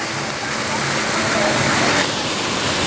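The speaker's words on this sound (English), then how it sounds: "These Viking rapids look really fun." Water rushes loudly and steadily at the Viking rapids boat ride at Legoland Windsor, a dense, continuous roar like a close waterfall that fills the whole moment.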